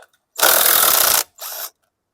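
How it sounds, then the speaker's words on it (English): A tool grinding on a stripping bolt during service of a 2019 Troy-Bilt TB400-XP lawn mower carburetor, a loud harsh burst of almost a second, then a brief pause and a second shorter burst, with quiet before and after. "Looks like it did a little stripping on that bolt."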